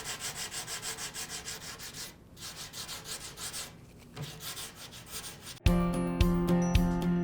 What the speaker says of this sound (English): I'm just going to take this sanding block and I'm going to sand this paint off